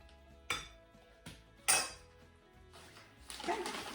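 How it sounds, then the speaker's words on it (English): Chicken soup with cheese tortellini is stirred gently in a pot, giving a few quiet, spaced clinks and scrapes of a utensil against the pot, with a brief rustling swirl at the end. "So let's stir this gently."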